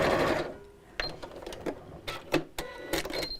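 Sewing machine stitching across the top of a cosmetic bag with handles, first a brief run, then a string of short stitching bursts and clicks at moderate, close level.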